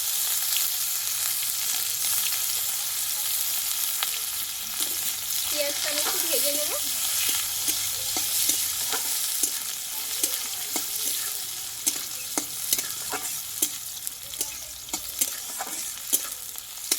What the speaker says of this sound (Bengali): দেখো বন্ধুরা এখানে কিন্তু পেঁয়াজটা আমি অর্ধেকটা ভেজে নিয়েছি